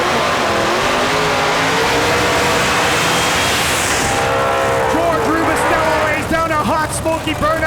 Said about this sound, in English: Hot smoky burnout in his first call out.